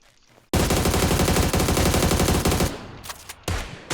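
A long, loud burst of automatic gunfire in PUBG on the Vikendi snow map runs for about two seconds, followed by a few scattered single shots and lighter rattles.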